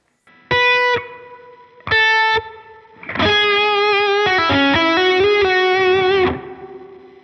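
An electric guitar played through a Line 6 Helix with reverb added: two short sustained chords, then a longer smooth legato run ringing out into a reverb tail, with no talking.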